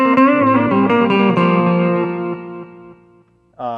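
An electric guitar runs through a guitar amp's digital delay, with a strummed, distorted chord whose repeats trail away and fade out before a fresh chord strikes at the end.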